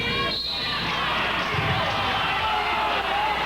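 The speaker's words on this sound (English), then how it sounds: "the crowd doesn't like that at all" Crowd at a 1988 CIAU women's national championship basketball game between Manitoba and Calgary reacts with loud disapproval to a foul call, a steady roar of voices filling the gym throughout.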